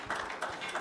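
A church congregation claps for Anthony in a short, close burst of applause lasting under a second, with no talking.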